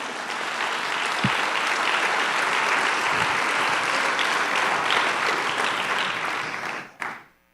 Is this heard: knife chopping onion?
no